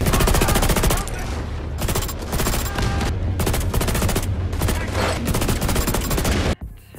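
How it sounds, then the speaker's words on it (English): Rapid bursts of lightweight M4 rifle fire from the video game The Division 2 ring out loud and close, in several sustained volleys separated by brief gaps, then cut off abruptly. "The lightweight M4 sounds like,"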